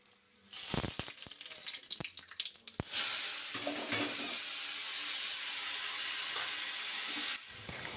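Shelled peanuts, nigella seeds and dried red chili frying in a little oil for red amaranth greens, a dense steady sizzle that bursts in after a few sharp clicks and continues nearly alone.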